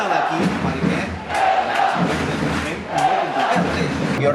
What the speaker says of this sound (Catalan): La gent aplaudeix a l'equip, anima l'equip